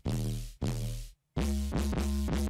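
Dry synth bass for an emo-style electronic drop, stripped of all effects: sustained harmonic bass notes in a steady rhythm, with a brief gap midway and a quicker pulsing pattern after, played alone.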